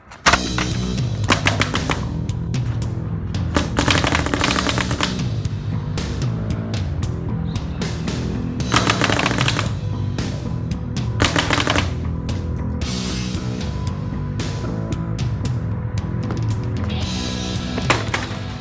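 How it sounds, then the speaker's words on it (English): Planet Eclipse Gtek paintball gun firing in rapid repeated bursts of sharp, loud pops, with short pauses between strings of shots. "It's designed to be a gun that every time you pull a trigger, is gonna shoot."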